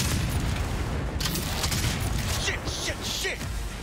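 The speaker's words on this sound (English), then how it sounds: "we're both missing at point blank range with shotguns" Close-range shotgun blasts in Cyberpunk 2077 ring out as a rough series of heavy booms, loud and near, with voices talking over the firing.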